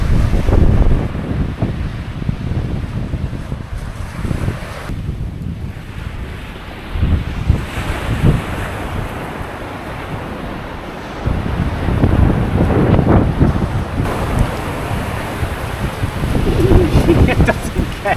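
Strong wind buffets the microphone over rolling sea waves at Swanage Beach on a rainy, blustery day, a loud continuous roar that swells and eases in gusts.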